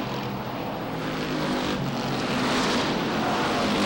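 Late model stock cars race around the Waterford Speedbowl short oval, a loud continuous roar of several engines droning together and swelling slightly toward the end.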